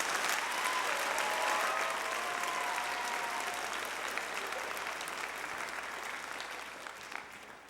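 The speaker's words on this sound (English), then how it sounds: "So give them all one more round of applause." An audience at a junior high spring band concert applauds the school jazz band with loud, sustained clapping that slowly thins toward the end, with faint crowd voices mixed in.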